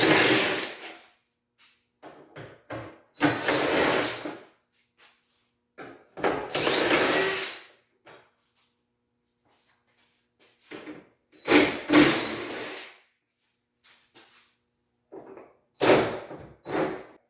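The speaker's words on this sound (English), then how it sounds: "You're going to use your T40 torque stick to remove these bolts here, real quick and easy with the impact driver" Impact driver with a T40 torque stick zipping out bolts on a 2019-2022 Polaris RZR XP 1000, heard as several loud, close bursts of whirring and hammering separated by short pauses.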